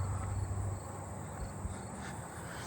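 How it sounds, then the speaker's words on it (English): A fall field cricket chirping in a suburban neighbourhood, a faint, continuous high trill over soft background hum, with a low rumble fading out early and no voices. "I'm sure you can hear the fall field cricket now."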